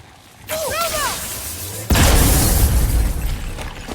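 In the video game God of War, whistling, warbling tones give way to a sudden loud boom, followed by a rumbling, crackling blast that slowly fades.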